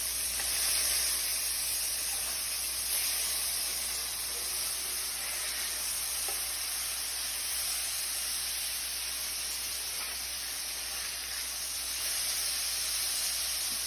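Burger patty searing in a hot pan with juices pooling on top, giving a steady, close hiss and sizzle that runs unbroken throughout.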